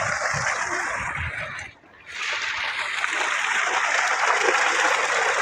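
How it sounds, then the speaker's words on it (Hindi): Water gushes continuously from a 4-inch borewell on rainfed farmland, a loud steady rushing splash that dips briefly before surging back. "ये पानी का आप शोर देखें।"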